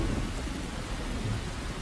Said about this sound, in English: And the rain is really coming down.